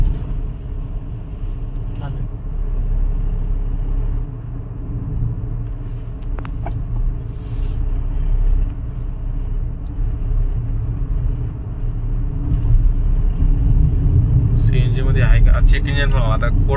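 A Tata Punch CNG car's engine idles steadily with a low, constant rumble throughout, a few faint clicks and rattles nearby and a slightly louder stretch near the end, with no one talking.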